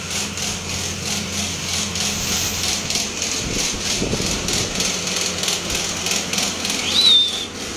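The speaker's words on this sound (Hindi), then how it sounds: "इतनी आवाज़ कूलर की आ रही है।" An air cooler runs nonstop during hot weather, giving a steady, fairly loud mechanical whir and hum with a faint rattling texture throughout, and no talking.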